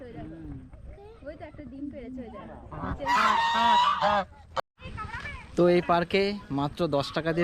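Geese honking loudly and repeatedly up close in a park, in bursts of harsh nasal calls mixed with talking voices nearby.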